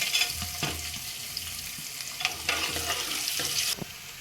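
Garlic and four dried red chillies frying in a pan in a home kitchen, a steady close sizzle with brief clatters of stirring throughout, no talking.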